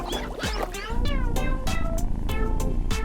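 A cat meows repeatedly in short rising and falling cries, close and fairly loud, over a busy background with other sounds mixed in.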